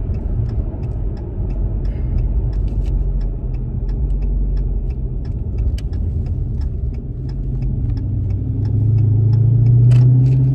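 A Dodge Challenger R/T's engine rumbles steadily while the car drives up a hill, a loud low drone with a faint rapid ticking over it, swelling louder near the end.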